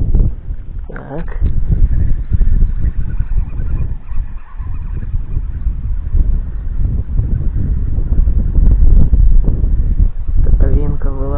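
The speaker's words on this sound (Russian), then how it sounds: "И ветер сегодня холодный. Прям слышно, спина мерзнет. От ветрища такого." Strong cold wind buffets the microphone while fishing with a wobbler, a constant low roaring rumble throughout, with someone speaking briefly at the start and end.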